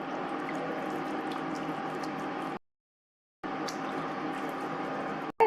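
Water is poured into a pan of coconut and potato kurma with moong dal in a steady splashing stream that stops briefly and then resumes, moderately close and alone.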